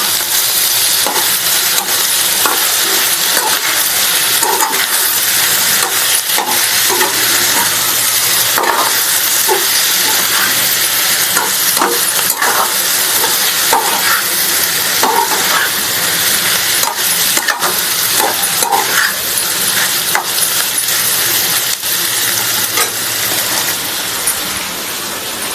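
Potatoes sizzling and hissing steadily in a pan for allu fry, with repeated spoon scrapes and clinks as they are stirred, close and loud, no talking.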